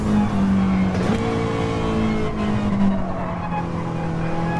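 Race car engine lapping Fuji circuit, a loud steady drone near the microphone that holds a high pitch, dips briefly around a gear change, then climbs again, with no voices.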